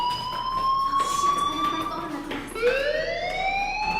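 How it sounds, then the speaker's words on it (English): A fire alarm in the video game Life Is Strange wails with rising electronic tones, repeating steadily and fairly loud over a background murmur. "Hey, do you hear that fire alarm? That means you should be outside."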